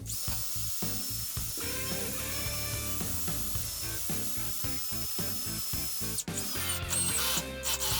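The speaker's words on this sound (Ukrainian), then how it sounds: "Тепер будемо закручувати турбогвинти, переходимо, починаємо з першого 8 на 100" Zegor CDAX-16-BL cordless screwdriver driving 8 by 100 mm turbo screws into wood, its motor whirring in repeated short bursts with rhythmic clutch ratcheting and a sharper clicking stretch near the end.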